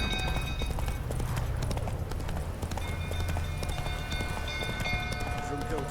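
Roach the horse gallops in The Witcher 3, hooves pounding in a quick, steady clip-clop rhythm, close and continuous, with a voice speaking over the hoofbeats.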